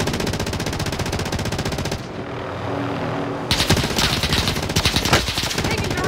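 Loud, sustained automatic machine gun fire in Call of Duty Warzone, a dense rattling burst that cuts out briefly and then resumes in rapid volleys.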